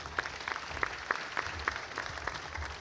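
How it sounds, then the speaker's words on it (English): Clapping from a conference audience, a steady spread of many hands with a few sharper claps standing out. Moderately distant and fairly faint, with no talking over it. "can I have an applause for Christopher Pook, please?"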